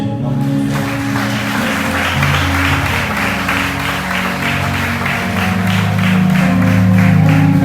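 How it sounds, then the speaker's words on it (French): A church congregation at Sunday worship applauds over music, with steady rhythmic clapping above a sustained low instrumental drone that gets slightly louder toward the end. "Est-ce que vous applaudissez mon Dieu?"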